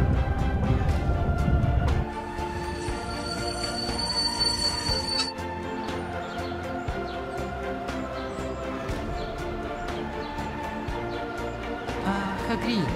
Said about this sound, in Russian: А где тогда сейчас, по-твоему, мы едем? Это то самое метро, Аптип, про которое все говорят